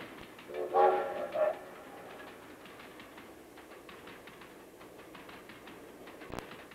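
A train rolls by in the distance in the mountains around Asheville, a low steady rumble with a short horn blast early on, faint and alone with no talk.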